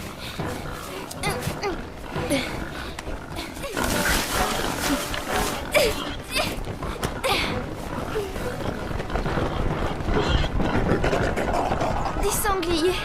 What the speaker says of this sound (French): Des sangliers.